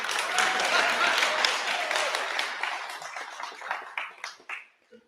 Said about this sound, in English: It's like a golf clap.